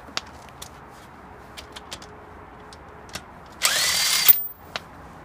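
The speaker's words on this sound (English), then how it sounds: "Now you can remove the lug nuts." A power drill-driver loosens car wheel lug nuts in one short, loud whirring burst lasting under a second, with scattered small clicks and taps before and after.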